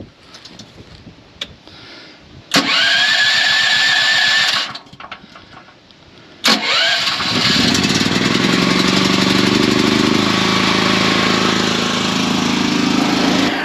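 A petrol generator engine on choke is started twice: it catches with a loud sputtering roar, dies after about two seconds, then fires again and keeps running at a steady, loud, buzzing drone nearby.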